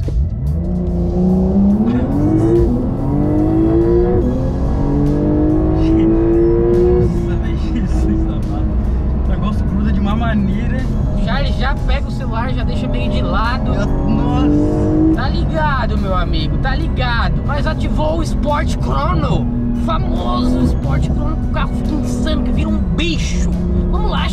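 Car in the Free Fire video game accelerating from 0 to 100, a loud continuous engine roar whose pitch climbs and shifts through the clip, with someone talking over it throughout.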